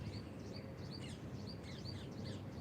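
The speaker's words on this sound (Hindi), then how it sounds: "पक्षियों की मधुर आवाज़" Birds sing outdoors on a morning, with repeated short high chirps and whistled calls scattered over a steady bed of wind or ambient outdoor noise.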